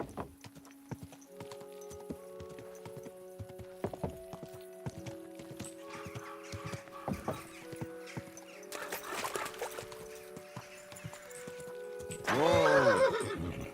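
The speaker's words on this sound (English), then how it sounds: "Easy, good horse." Horse neighing and clip-clopping hooves in the medieval video game Kingdom Come: Deliverance 2, with game music underneath, scattered hoof steps throughout and a loud, close whinny near the end.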